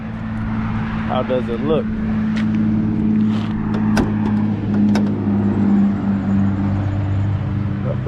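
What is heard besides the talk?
rebuilt car engine running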